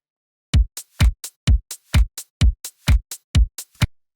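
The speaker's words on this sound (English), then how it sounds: "Drums are very simple. They just sound like this on their own." Progressive house electronic drum pattern, in which punchy kicks land on a steady beat about every half second with lighter hits between them, dry and loud with no talk.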